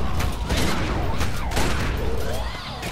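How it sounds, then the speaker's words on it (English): Rapid bursts of gunfire in The Secret World, dense overlapping shots and impacts firing continuously at close range, loud throughout with a faint voice beneath. "I am shooting you with my bare hands."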